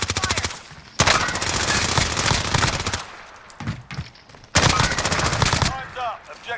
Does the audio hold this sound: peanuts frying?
no